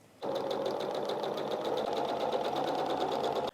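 A sewing machine stitches the hem of a dust bag made to cover a painting, running in one steady, fast continuous burst with an even mechanical whir and a regular needle beat, close and alone with no talking.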